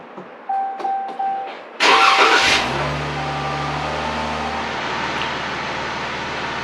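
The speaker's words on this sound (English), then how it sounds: "start my vehicle" A car engine starting: faint beeping chimes, then a loud cranking burst that catches and settles into a steady, close idle rumble, with no talking.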